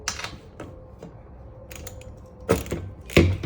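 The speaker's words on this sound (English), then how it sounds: "get your wrench, half-inch wrench on there" A half-inch wrench turns a bolt while a Radd Raxx rack system is being installed, giving a few sharp mechanical clicks and ratchet-like ticks at irregular intervals, close by and fairly quiet.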